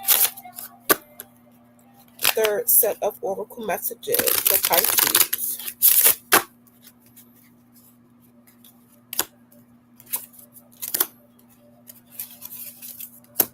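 A deck of oracle cards is shuffled in a dense rustling burst, with sharp taps and snaps before and after, while a person speaks briefly nearby.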